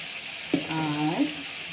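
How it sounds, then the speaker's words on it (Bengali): Spice paste with turmeric and chilli powder for a Bengali rui fish curry fries in oil, giving a steady close sizzle with a short scrape of stirring midway. "এবার আমি এটাকে সুন্দর করে যতক্ষণে না তেল ছাড়ছে মশলাটা থেকে ততক্ষণ আমি সুন্দর মতো কষিয়ে নেব"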